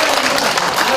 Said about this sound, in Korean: 또 감사드리겠습니다. 박수 한번 주세요.